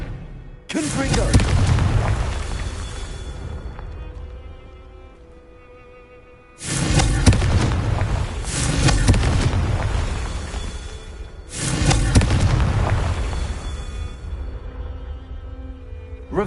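Confringo fire spells in the game Hogwarts Legacy set off three loud booming explosions, each followed by a long rumbling tail that fades over several seconds.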